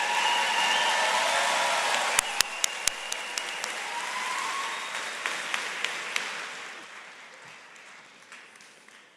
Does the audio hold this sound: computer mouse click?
no